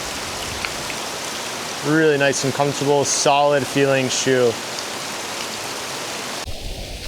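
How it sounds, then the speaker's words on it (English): Heavy rain pours outdoors in a steady, close hiss that runs throughout, with someone talking over it in the middle stretch. "it is absolutely pouring out today"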